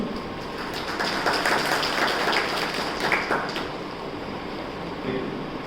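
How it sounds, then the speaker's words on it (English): Audience applause for a speaker at a school investiture ceremony, dense clapping that swells after the first second, holds steady and then eases slightly, with a steady hum underneath. "Please give him a big round of applause."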